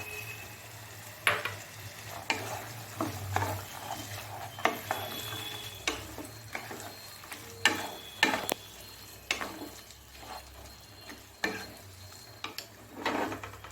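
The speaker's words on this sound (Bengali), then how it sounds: "এই সময় আমি দিয়ে দিচ্ছি এর মধ্যে মটরশুঁটিটা।" Green peas sautéing in spice masala for an aloo matar curry, a soft sizzle under repeated scraping and stirring strokes of a spoon against the pan, with occasional light clinks, close by and without talk.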